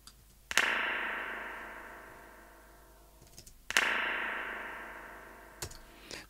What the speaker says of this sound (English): Let's try it with a percussive sound as well.